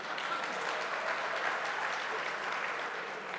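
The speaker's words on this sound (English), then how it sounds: "You've got to clap for saying nothing, actually." An interview audience applauds at a live debate event, a dense, steady wash of clapping from many hands that holds evenly for a few seconds.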